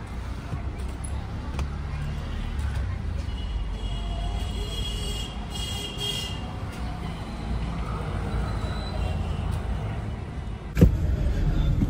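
A car drives along at low speed as it pulls in to park near a hospital, engine and road rumble steady and close, with a sharp knock near the end and people speaking inside.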